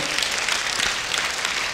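A church congregation applauds the Lord during a Christmas sermon. The clapping is a dense, even wash of many hands, heard alone for a short burst.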